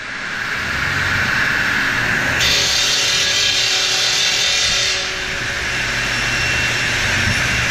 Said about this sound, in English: They were sawing some steel or aluminum sheets up on that slate saw for the customers.